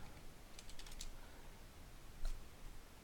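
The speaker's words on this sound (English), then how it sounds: "We'll type the text," Keys clatter on a computer keyboard as text is entered into a Word document, a short quiet burst of light taps followed by a pause and a single further keystroke, faint against a hissy background.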